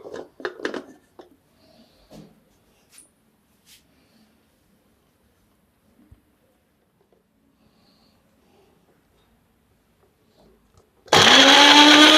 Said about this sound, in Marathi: त्याची वेगवेगळी अशी पावडर करणार मिक्सरला लावते म्हणजे पटकन होईल